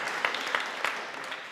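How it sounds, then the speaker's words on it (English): A symposium audience on AI and design education applauds a helper, a soft, distant patter of clapping with a few sharper claps standing out, brief and fairly quiet. "Let's give René a big round of applause"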